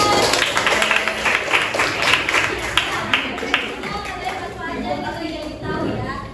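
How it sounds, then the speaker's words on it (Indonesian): Students in a classroom clapping together, a dense continuous patter of applause with mixed crowd chatter, fairly loud and close, gradually thinning toward the end. "Oke, tepuk tangan."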